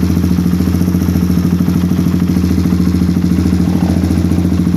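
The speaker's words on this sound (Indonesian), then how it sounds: "Ini dia suara idle dari PWK BRT yang menggunakan jarum" A motorcycle fitted with a PWK BRT carburetor using a J6ZG needle idles close up with a loud, steady, rapid thumping pulse and a clattery mechanical edge, even and stable throughout.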